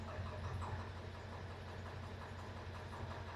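A vehicle engine idles steadily with a low, even rumble and faint rhythmic pulsing, quiet and continuous throughout with no speech.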